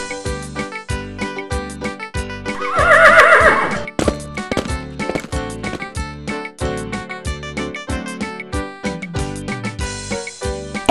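A horse gives one loud, quavering whinny in the middle, with steady clip-clopping hooves and music running throughout.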